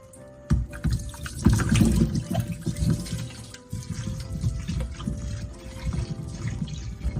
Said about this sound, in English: After removing the pits, wash the plums cleanly.